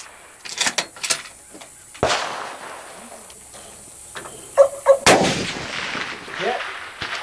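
Shooters firing at targets on a range: several sharp gunshots crack out at irregular intervals, some louder and nearer than others, over faint insect chirping in the background.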